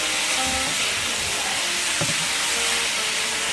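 Vegetables and beef stir-fry in a pan, giving a loud, continuous broadband sizzling hiss up close with faint stirring clicks and no talking.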